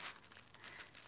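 Sheets of old watercolour paper are handled close by, producing a short burst of crisp crinkling and rustling that lasts about a second.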